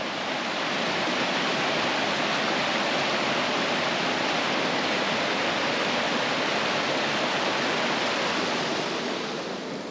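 Paradise River on Mount Rainier rushing beneath a trailhead bridge, a loud, steady, close roar of fast-flowing water with no break.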